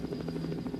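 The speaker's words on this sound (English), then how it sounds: "I'm flying the helicopter now using the mouse, and that's one of the enemy helicopters." Helicopter flying in a 1988 PC video game, a steady low rotor throb with a faint high whine, no voices.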